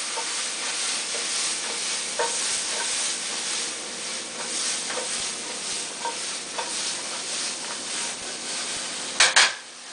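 Apples and onions fry in a pan with a soft, continuous sizzle. A utensil stirs them with scattered light clinks and scrapes, then clatters sharply twice near the end. No voices are heard.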